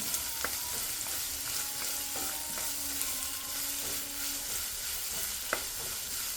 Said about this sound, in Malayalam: ഉള്ളി ഇട്ട് കൊടുത്തിട്ടുണ്ട് ഞാൻ ഇതൊന്ന് നന്നായിട്ട് വാടി കിട്ടണം